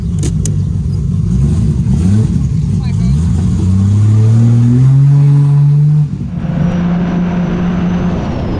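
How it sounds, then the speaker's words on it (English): A VL Turbo car cruising through New York City traffic gives a loud, close engine drone with rising turbo spool tones that climb repeatedly and then settle into a steady hum, while a voice talks over the engine. "I have to remove the sensor again to get the spoolie noises back for cruising"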